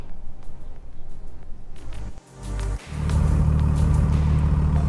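A 2001 Dodge Ram 2500 24-valve pickup drives after a driveshaft repair with a new carrier bearing and U-joint: a steady, low engine rumble that briefly dips, then settles into a fuller, even drone.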